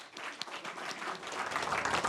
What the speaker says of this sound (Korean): 이의가 없으시면 모두 큰 박수 부탁드리겠습니다